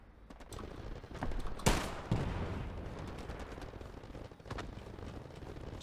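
Gunfire in the World War 2 shooter Hell Let Loose: a loud sharp shot stands out, followed by scattered distant rifle and machine-gun bursts across a battlefield.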